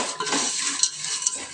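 Chilli powder and spices fry in oil for puffed rice chivda, a short burst of steady close sizzle mixed with the scrape and clink of a spoon stirring in the pan.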